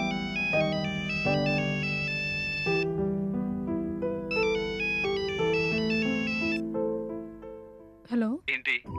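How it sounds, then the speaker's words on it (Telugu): A cell phone ringtone plays a bright electronic melody of stepped tones for an incoming call in a Telugu TV serial scene, loud and steady for several seconds before cutting off into a brief warbling sound at the end. "రోమి కాలింగ్."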